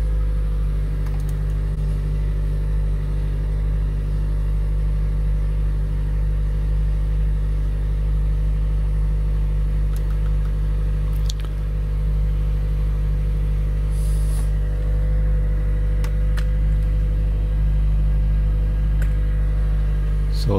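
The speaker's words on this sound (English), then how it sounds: "Hit the gas pedal so the engine will kick in." Gasoline engine of a Toyota Prius Plug-In with about 110,000 miles running after kicking in, a loud, steady low rumble that holds constant throughout with faint ticks on top.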